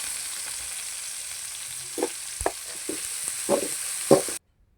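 Small onions sautéing in hot oil in a kadai, a steady frying sizzle with a few louder stirring scrapes and clicks close by, running alone until it cuts off abruptly near the end.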